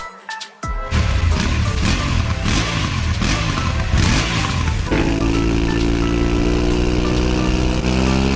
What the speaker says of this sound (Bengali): শুনলাম ডাকুর কাছে একটা ভটভটি ট্রাক্টর আছে।